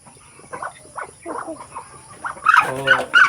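Soft, scattered clucking from a few chickens eating corn bran, with short bursts of calls growing busier and louder toward the end.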